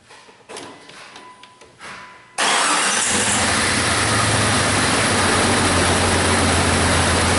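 A Jeep Cherokee with a misfire on cylinder six is started after a couple of seconds of near quiet. The engine catches abruptly and settles into a loud, steady running roar with a low rumble underneath, close by and with no talk.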